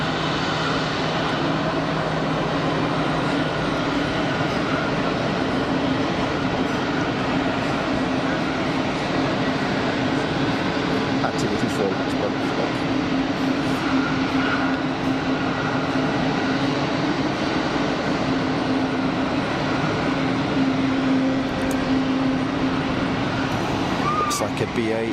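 A Swiss airliner taxiing at Geneva Airport gives off a steady, droning jet engine whine that holds level throughout, with a few brief sharp clicks and faint voices in the background.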